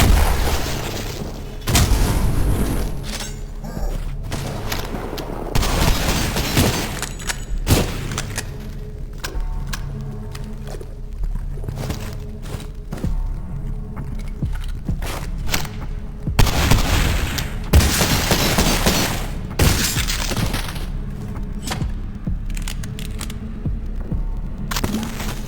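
Heavy gunfire booms through a firefight in the retro horror shooter Cultic, with repeated loud blasts and bursts spread across the scene over a dense, rumbling background of game noise.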